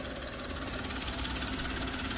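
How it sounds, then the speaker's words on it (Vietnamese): A Suzuki car engine idling smoothly, a steady, even low hum with a faint fast mechanical patter running through it at moderate loudness, with no voices. "Rất là đẹp, nhiều máy nổ êm ru luôn"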